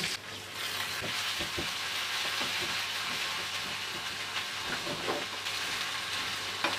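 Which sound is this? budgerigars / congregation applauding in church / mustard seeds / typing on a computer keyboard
mustard seeds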